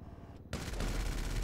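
Rapid jet cannon fire from a Lazer or Hydra jet in GTA 5 bursts in suddenly after a brief quiet gap, a loud, dense, continuous rattle of shots that carries on to the end.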